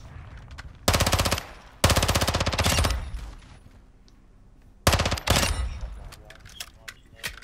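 Bursts of automatic gunfire in Call of Duty DMZ, loud and close, arriving in several rapid-fire volleys separated by quieter gaps, with talk faintly underneath.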